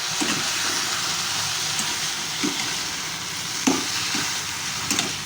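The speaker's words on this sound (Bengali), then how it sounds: "সর্ষে বাটাটা দিয়ে দিলাম এর মধ্যে সর্ষে ভেজানো যে বাটিটা ছিল সেটা ধুয়ে জলটা দিয়ে দিলাম আমরা আর দিয়ে এবার এটাকে সুন্দর করে আরেকবার নাড়াচাড়া করে দিতে হবে" Drumstick curry with mustard paste and a splash of water is stirred in a pan, giving a steady sizzle with a few soft scraping strokes and one sharper clink, near and without talk.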